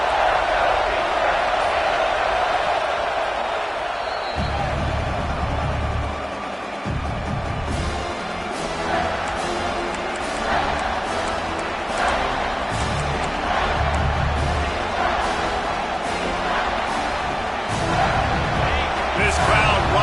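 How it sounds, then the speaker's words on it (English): A football stadium crowd at a Penn State game swells and roars, a dense, loud wall of cheering and shouting that keeps rising throughout, with bursts of louder noise on top. "This crowd rising up, sensing that its defense needs some help."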